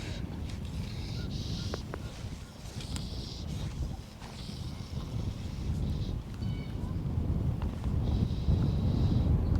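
Wind blowing across open water during a fishing trip on a boat, a steady low roar of gusts buffeting the microphone, with faint knocks.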